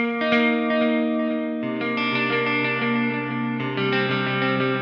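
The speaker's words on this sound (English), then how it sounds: "a saturation switch, which brings in a little bit of gain onto the wet signal" An electric guitar played through a Seymour Duncan Dark Sun digital delay and reverb pedal with its saturation switch adding gain to the wet signal: sustained chords ringing out with dense, slightly distorted repeats and a chord change midway, loud and continuous.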